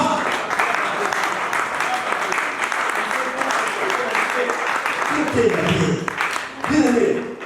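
A church congregation applauds during a French-language sermon with sustained, crowd-wide clapping of moderate loudness. A voice comes in over the room toward the end.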